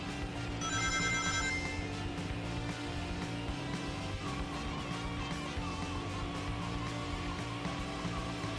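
A telephone rings at high volume, a repeated electronic bell pattern sounding over continuous game music from a Sonic Adventure 2 Battle session, with no one speaking.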